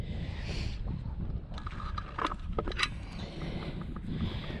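Gusty wind buffeting a microphone on Charmouth Beach, a steady low rumble with brief rising gusts and faint crackles throughout, close and continuous with no speech.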